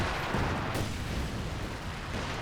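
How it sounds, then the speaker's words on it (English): Feuersturm incendiary artillery rounds rain down in Company of Heroes 2, a dense, continuous rumbling barrage of blasts that stays loud and unbroken throughout. "Do have Feuersturm incendiary rounds coming down on the mortar"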